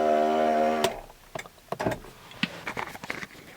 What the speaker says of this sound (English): So I'm gonna let the windows down.